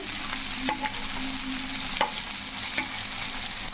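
Pieces of fish frying in a pan give off a steady, close hiss of sizzling oil, broken by a few sharp pops and crackles. No voices are present.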